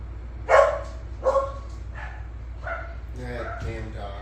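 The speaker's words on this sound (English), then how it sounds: "That damn dog." A dog barks twice in sharp yaps, then gives a few softer yips and whimpers, heard in a film scene with voices speaking alongside.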